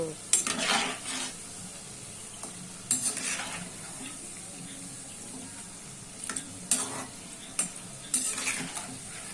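Taler bora, palm fruit fritters, frying in hot oil with a soft steady sizzle, broken by several sharp clinks and scrapes of a metal spoon stirring and lifting them from the pan.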